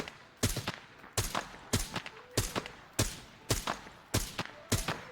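Suppressed Mini 14 rifle firing in the shooter game Arena Breakout Infinite, a run of single sharp shots in quick clusters spread evenly across several seconds, close and crisp, with no talking over them.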